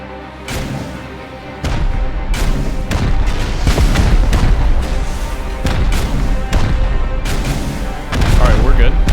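Rocket launches and explosions in Rust during a group raid, a string of heavy booming blasts and sharp impacts in quick succession, loud and close, with chatter underneath.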